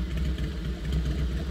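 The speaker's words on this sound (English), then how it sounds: "That's a real loud motorcycle right there." A loud motorcycle engine rumbles nearby with a throbbing, pulsing low drone that holds steady through a brief moment.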